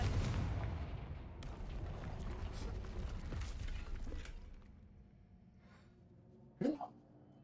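A Confringo fire spell explodes in Hogwarts Legacy, a loud booming blast with a rumbling tail that fades over several seconds, followed by a brief sharp crackle.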